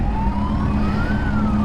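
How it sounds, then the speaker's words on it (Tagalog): A fire truck siren passing on the road, its wailing tone sliding slowly up and back down over steady traffic rumble, loud and continuous for a brief moment. "Tabi tayo, may bumbero."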